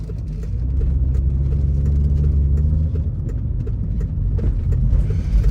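An Audi Ur Quattro engine rumbles steadily with a low drivetrain whir, holding a fairly constant level as the car runs.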